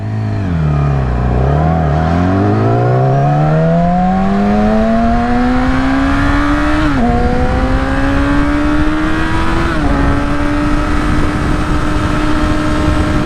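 A 2016 Yamaha R6 sport motorcycle revs loud and close throughout, its engine note climbing steadily through the gears with brief dips at each shift, no talk over it.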